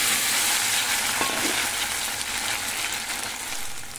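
Pre-boiled taro corms fry in hot mustard oil in a wok, giving a steady, loud, close sizzle that crackles with no pauses.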